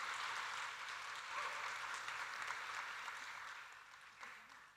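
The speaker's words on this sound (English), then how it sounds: "Please give him a big round of applause as well." Audience applause for a young violinist at a concert: a steady, dense wash of clapping from a crowd that holds for several seconds, then gradually thins and tapers toward the end.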